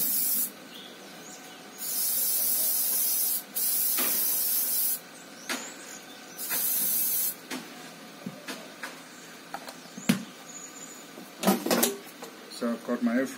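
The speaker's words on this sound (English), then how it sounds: "I'm gonna spray a bit on the paneer." Several short bursts of cooking spray hiss close by onto paneer, each lasting about a second, separated by pauses, with soft kitchen handling noises afterward.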